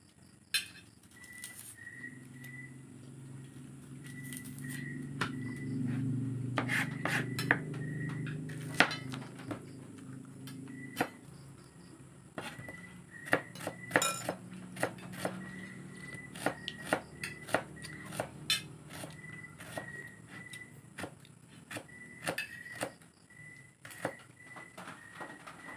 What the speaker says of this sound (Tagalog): Yung ano naman ang hiwain natin ang ating sibuyas.